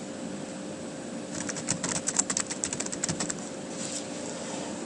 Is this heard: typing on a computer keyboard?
yes